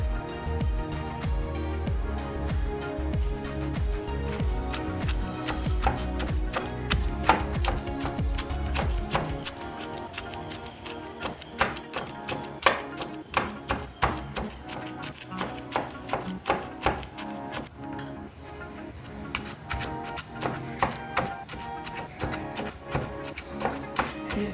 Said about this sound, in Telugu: ఇప్పుడు గోంగూర కూడా వేసి దంచేసుకుందామండి.